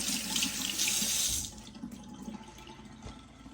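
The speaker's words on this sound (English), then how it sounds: "Rinse my hand off." Running tap water pours steadily into a kitchen sink as a hand is rinsed, loud and close for about a second and a half, then the flow stops and leaves faint drips and light handling sounds.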